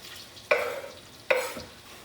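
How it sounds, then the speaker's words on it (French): Eggs go into a pan with butter, giving two sudden sizzling bursts about a second apart that each fade quickly, close and moderately loud with no talking. "On peut mettre les œufs dans la poêle avec le beurre."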